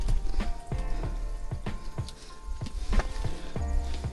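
Rain patters steadily during a monsoon mountain trek on a Sahyadri fort trail, with a constant hiss under repeated close footsteps and knocks.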